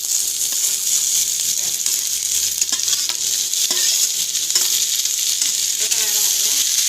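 Mixed vegetables and green chillies fry in a pan for masala Maggi, making a steady loud hiss with occasional stirring clicks and faint background sounds.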